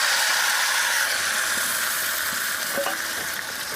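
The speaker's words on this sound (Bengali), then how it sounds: "আলুগুলো এরকম করে ভেজে নেব লাল লাল করে" Parboiled potatoes fry in hot oil in a pan, a steady broad sizzle that stays loud and close throughout, with a few faint clinks partway through and no voices.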